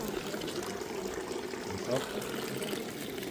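Water from the Rusalka mineral spring in Karlovy Vary, strongly ferruginous, salty and warm, flows in a steady, even wash with a faint voice talking over it.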